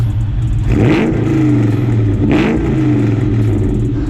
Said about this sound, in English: MagnaFlow exhaust, let's hear how it sounds.